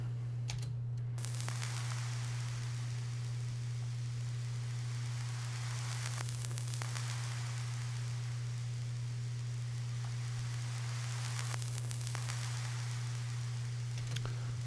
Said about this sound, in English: It's like a static kind of sound.